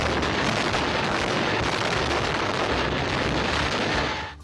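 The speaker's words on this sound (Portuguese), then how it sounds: "desde a instalação da dinamite no local até a explosão que reuniu" A continuous, loud, rumbling roar of a dynamite building implosion and collapse in Pernambuco, filling the whole clip before tapering off at the end.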